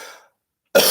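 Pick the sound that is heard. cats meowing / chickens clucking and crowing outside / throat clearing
throat clearing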